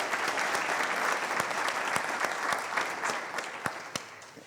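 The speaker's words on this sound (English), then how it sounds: "Let's give him one more big round of applause for being here today." Dense applause from a breakfast business crowd fills the room for a congressman, steady and loud with sharp individual claps standing out, tapering slightly toward the end.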